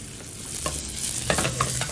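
Salted butter hitting a hot pan sizzles and spits, with a quiet hiss building into bursts of crackling and popping over two seconds, close and with no talk.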